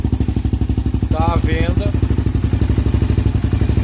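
A motorcycle idles steadily through a Coyote RS5 oval aluminium exhaust with an 8-size outlet, fitted to the bike's original pipe, giving a loud, close, even pulsing rumble throughout while someone speaks briefly over it.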